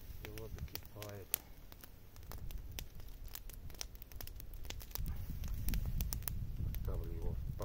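Kettle boiling on a grate over an open campfire, a soft rushing hiss with crackling fire pops scattered through, close by and fairly quiet, with a voice briefly at the start and near the end.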